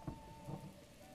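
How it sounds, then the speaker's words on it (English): Rain in the open-world video game Zelda: Breath of the Wild, a faint, steady patter with a soft low rumble, heard briefly and quietly. "It's raining. I can't do it."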